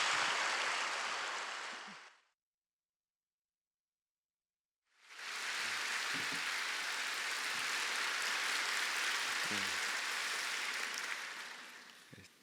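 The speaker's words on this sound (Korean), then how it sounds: "큰 박수로 맞이하겠습니다" Church audience applause at a congregation seminar welcomes the pastor: a dense, steady wash of clapping from a crowd, then a short silence, then another long sustained round of applause tapering off at the end.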